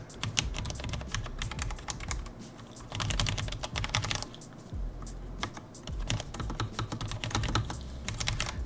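Fast continuous clacking comes from a Corsair K60 RGB mechanical keyboard being typed on, close and crisp, in bursts with brief pauses between runs.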